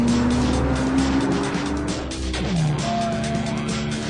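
A Porsche Cayman S, type 987 phase I, with its flat-six engine sounds vigorous and loud as it drives past. A sustained engine tone rises and falls, with a sweeping pitch change midway and a brief squeal of tyres.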